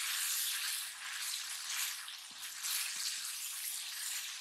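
Tomatoes with turmeric and salt sauté in a pan, making a steady close sizzle and frying hiss with a few faint stirring knocks, alone without talk.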